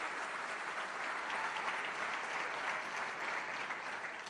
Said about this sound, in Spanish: Un aplauso para este genio que tenemos en el equipo.